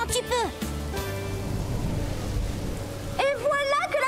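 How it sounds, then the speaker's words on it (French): Rain starts falling during a cartoon race, a broad hiss of downpour that fills the middle, with animated character voices and sound effects at the start and end. "Et voilà que la pluie s'invite."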